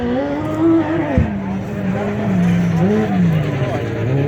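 A racing lawnmower with a new four-stroke motor drones loudly nearby, its pitch rising and falling as it revs, with a voice talking under it.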